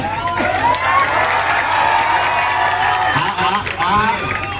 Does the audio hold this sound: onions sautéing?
no